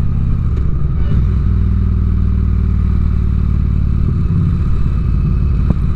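A 2006 Harley Ultra Classic motorcycle on a morning ride, a loud continuous engine rumble with steady low harmonic drone and wind noise, close and unbroken for the whole stretch.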